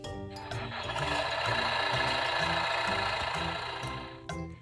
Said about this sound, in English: Next we have tractors.